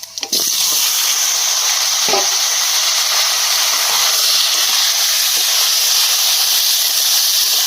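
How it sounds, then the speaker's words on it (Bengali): Whole spices tempering in hot oil for a fish curry, a loud, steady, close hiss of frying oil after a few opening clicks, with faint stirring taps. "ফোড়ন করবো।"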